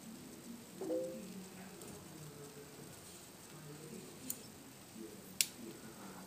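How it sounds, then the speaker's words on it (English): Turning the axle of a film developing tank gives faint, quiet handling noise in a still room, with two crisp, sharp clicks near the end. "you're going to be rotating this axle to that way in front of you until you hear a click"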